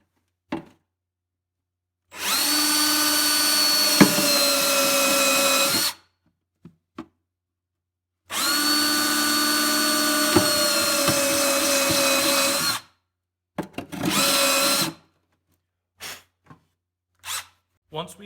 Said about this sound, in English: For drilling, we like to use a unibit.